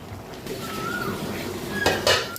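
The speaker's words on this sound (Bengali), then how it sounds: "এবার একটু আমি এরকম একটু ঘেটে নিচ্ছি খুন্তি দিয়ে।" A spatula stirs bottle gourd curry in a pan, making faint scraping and a few light metal clinks against a quiet background, close by and without talk.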